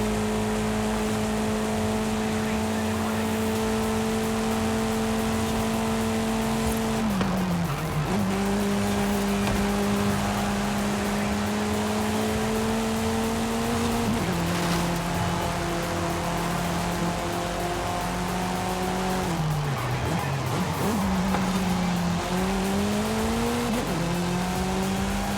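A car in Forza Horizon 5 holds a loud, sustained engine drone with steady pitch, dropping sharply at gear shifts or braking and then climbing again, over constant tire and road rush.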